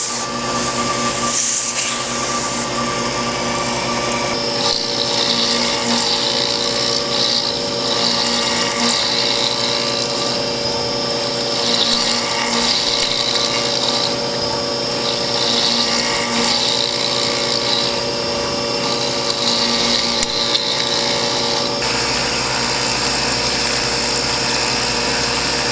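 A milling machine cuts metal with an end mill, a steady loud machining drone with a high whine, while blasts of air periodically hiss to clear away chips.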